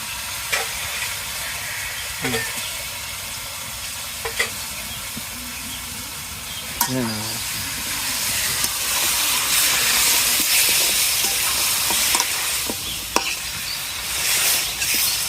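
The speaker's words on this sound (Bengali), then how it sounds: "ভাজ কর করে করে ভাজো" Chicken pieces fry and sizzle in a pan for a village-style chicken curry, a steady broadband hiss running throughout with occasional stirring scrapes and clinks, growing slightly louder in the second half.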